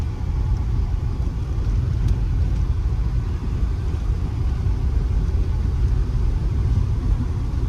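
Steady low engine rumble of a car rolling along a road, continuous and fairly loud throughout, with no voices.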